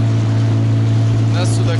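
A motorboat engine drones loudly and steadily as the boat moves to another spot on a pike and zander fishing trip. The brief stretch is a constant close rumble with wind and water noise.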